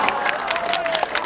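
Street busking audience clapping and cheering outdoors, a steady crowd wash of applause with scattered claps throughout, a faint sustained tone running beneath.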